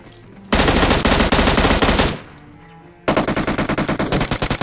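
Loud, close bursts of rapid automatic gunfire in a battle royale video game, two long sustained volleys separated by a brief pause.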